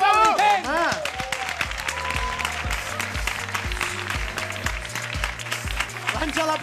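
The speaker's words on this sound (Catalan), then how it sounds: "Un aplaudiment!" A studio audience claps steadily through the whole stretch at an entertainment show with two hosts. The dense applause blends with music and raised voices.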